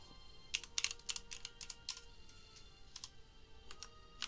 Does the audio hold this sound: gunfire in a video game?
no